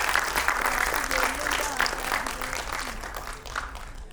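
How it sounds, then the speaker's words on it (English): Audience clapping at a school annual day, a dense, continuous round of applause from a crowd with faint voices mixed underneath. "Claps everywhere, guys."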